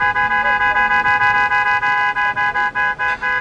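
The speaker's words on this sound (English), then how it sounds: "I'm kind of assuming the guy in the red truck is honking." A rapid string of about a dozen short, insistent honks from a red truck's horn at a street crosswalk, blaring loud and steady over faint traffic noise.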